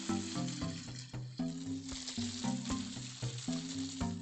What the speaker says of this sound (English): Sizzling, hell yeah, though.